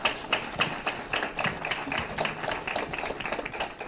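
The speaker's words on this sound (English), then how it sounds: "Let's give all of our participants a big round of applause." An audience at a community conversation about youth vaping claps for the participants in steady, dense applause that runs loud and unbroken for several seconds.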